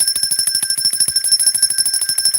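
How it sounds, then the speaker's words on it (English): A bell rung repeatedly in celebration, a fast steady stream of bright metallic strikes ringing loud and close, with a clear sustained tone for the whole stretch and no talking over it. "We gonna ring the bell for Cassandra because Cassandra got her new"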